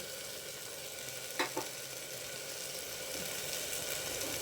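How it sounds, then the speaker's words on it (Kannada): Tomatoes frying in a pan for a bottle gourd gravy give a steady, close hiss of sizzling oil, with two brief stirring scrapes partway through and no voices. "ನೋಡಿ, ಫ್ರೈ ಆಗ್ತಾಯಿದೆ ಟೊಮೊಟೊ ಎಲ್ಲ."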